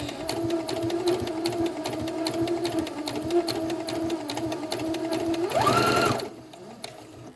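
A sewing machine stitching a straight seam in fabric, a steady close mechanical whir with rapid needle ticking that speeds up briefly near the end and then stops, leaving quiet.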